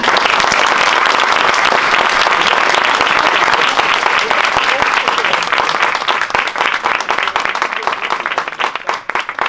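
An audience bursts into loud, dense applause that holds steady for several seconds, then thins out into scattered claps.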